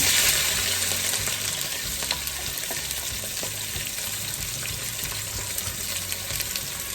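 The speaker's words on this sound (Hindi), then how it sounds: "इसके बाद प्याज जो मोटा मोटा मैंने काटा हुआ था इसको डाल देना।" Coarsely chopped onions frying in a pan for a goat trotters (paye) dish, a soft, steady sizzle with faint stirring, moderately quiet and close, no voices.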